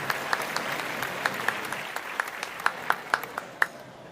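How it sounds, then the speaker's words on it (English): Scattered applause follows a stage performance, a steady wash of audience clapping with sharper individual claps popping out near the front, one person's hands noticeably louder than the rest. "When the performance ended, she clapped louder than everyone else."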